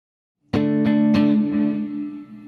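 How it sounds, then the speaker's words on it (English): Electric guitar with reverb and delay, three chord strums after a short silence, sustaining into a long washy tail of repeats that fades slowly. "And now I'm going to add the delay again."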